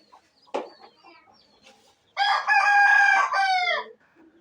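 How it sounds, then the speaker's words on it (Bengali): A rooster crows loudly and close by at a household poultry coop, one long harmonic call after a few scattered clucks and soft background noises. "মুরগি ডাকতেছে কুকুরুকু।"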